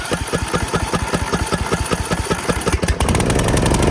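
An old engine at an abandoned homestead cranks with rapid, rhythmic chugging pulses. It then catches and settles into a loud, continuous running rumble close by.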